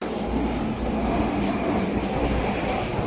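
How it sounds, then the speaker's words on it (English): A test train passes on overhead rails near an overpass, a steady loud rumble of wheels and carriages with faint squeal, continuous throughout and no voices. "Test train just coming above here."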